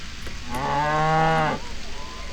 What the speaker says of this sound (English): we're going to stop here and knock a cow over.